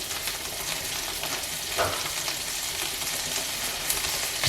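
Capers fry in hot olive oil for spaghetti alla puttanesca, producing a dense, continuous sizzle close by, with a brief louder crackle in the middle.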